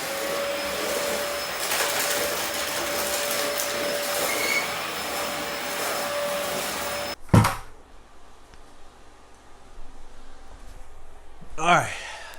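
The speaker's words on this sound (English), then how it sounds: "I'm going to continue vacuuming and get back to you in just a minute." A household vacuum cleaner runs with a steady, loud whirring drone close by, then cuts off abruptly, leaving quieter room noise with a few brief knocks and rustles.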